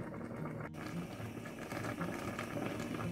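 Pork loin simmers in water in a pot on low heat, bubbling in a soft, steady, continuous burble up close, with no talk.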